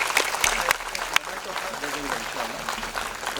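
Audience applause at a school annual function greeting the principal: a crowd's broad patter of clapping with a few sharp, louder claps, mixed under a voice talking over it throughout.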